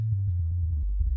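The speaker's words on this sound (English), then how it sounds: "So it's also got a cool sound, but you see we're left with a sine wave." A low synthesizer sine wave from the Massive wavetable synth, used for sub bass sound design, holds a deep steady tone that slides slightly lower partway through, with faint pulsing clicks over it and no voices.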